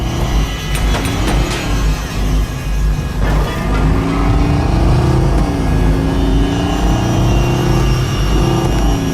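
Car pulling away in the Watch Dogs video game, a steady loud engine drone with a rising, revving pitch that holds throughout, mixed with game ambience.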